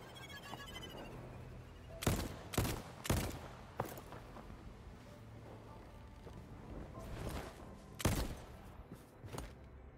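Gunfire in the game Voidtrain blasts at targets: a few loud, separate shots in quick succession, then a lone shot several seconds later, over a low game background.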